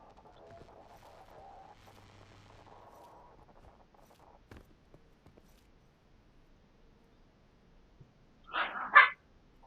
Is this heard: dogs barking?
yes